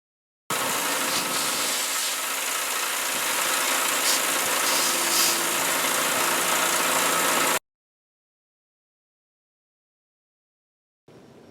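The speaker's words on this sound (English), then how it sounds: "I take it over to the wire wheel, and then it starts shining." Steady, loud whir of a wire wheel polishing cleaned, degreased hardware from an Atlas 7B metal shaper, running continuously for about seven seconds with a bright hiss, then stopping abruptly before a brief restart.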